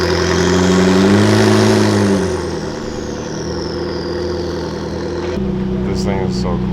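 A Liberty Walk LB Works McLaren at an outdoor car show, its engine humming steadily nearby, louder for the first two seconds then settling to a lower drone, with a crowd's voices mixed in.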